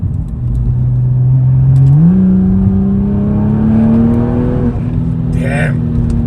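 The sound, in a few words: BMW M135i hot hatch engine accelerating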